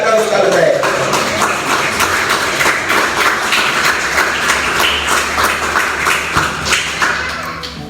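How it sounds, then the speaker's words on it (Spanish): Applause from a church congregation celebrating Pesaj and the Lord's Supper: dense, steady clapping fills the space throughout, with talk mixed in beneath it. "Dale fuerte el aplauso al Rey."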